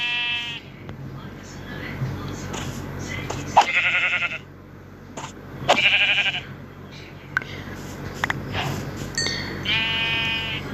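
Sheep bleating in the Minecraft video game, a few short buzzy synthetic bleats repeating at intervals over a continuous background hum, with a voice talking faintly underneath.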